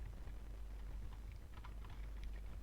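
Keys tapped on a computer keyboard while a folder name is typed, a short run of faint, quick clicks over a steady low hum.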